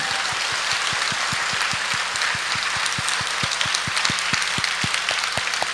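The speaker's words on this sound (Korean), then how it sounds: "우리 하나님께 손뼉으로 영광" Church congregation clapping hands together in a steady rhythm at a prayer retreat service, loud regular beats over a thick wash of applause, filling the room without any speech.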